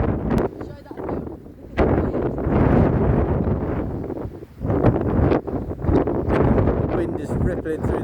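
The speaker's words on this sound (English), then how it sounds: "it's very, very windy" Strong wind buffets the microphone on an open grassy hillside of the South Downs near a lighthouse, a loud, continuous roar with gusty swells and brief lulls.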